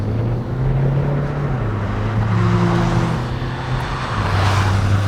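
A Renault Samsung SM6 1.5 dCi diesel car accelerates on the road, its engine drone rising steadily in pitch under heavy wind and road noise, with no voices.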